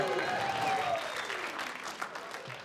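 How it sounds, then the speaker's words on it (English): Comedy audience applauding in a club or theater during a stand-up set, a broad wash of clapping that starts strong and gradually thins out, with faint whooping and murmured voices mixed in. "Let's just get a round of applause."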